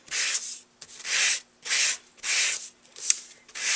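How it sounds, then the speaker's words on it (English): Repeated back-and-forth rubbing strokes of a sanding block along paper card edges, about six evenly spaced passes, close and soft. "I want to take my really cool sanding block, and I'm just going to gently"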